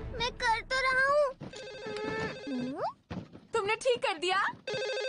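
A cartoon telephone rings in a Hindi-dubbed Doraemon episode, a bright repeating bell sounding in bursts between and under children's animated voices.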